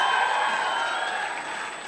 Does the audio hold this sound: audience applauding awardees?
yes